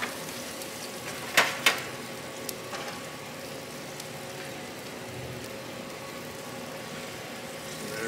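Meat sears on a Wild Fire 4-in-1 grill with a steady, moderately loud sizzle and hiss throughout, broken by two sharp crackles or pops near the start.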